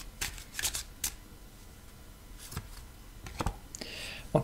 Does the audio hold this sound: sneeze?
no